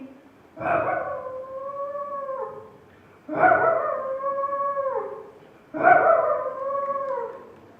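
A mimicry contestant at a Kerala school arts festival uses their voice to imitate a dog howling, with three long, loud, sustained howls separated by short pauses, close to the microphone.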